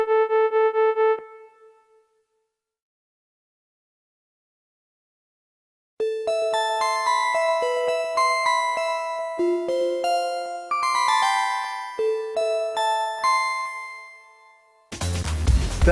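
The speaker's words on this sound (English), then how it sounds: "Bell sounds are very easy to make." A Roland GAIA SH-01 synthesizer bell tone rings and decays, then after a pause a run of bright metallic bell notes plays in a melodic sequence, ending abruptly.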